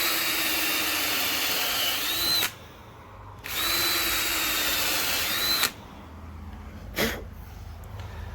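A power drill pre-drilling and countersinking into wood for a DIY kayak wall rack, two loud sustained whirring runs with a pause between, then a brief final burst, close and without talk.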